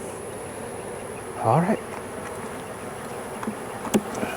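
Honeybees buzzing steadily around an open, queenless hive, a soft continuous hum with a few closer passes, while a person briefly speaks nearby.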